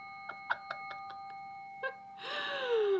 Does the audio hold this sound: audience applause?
no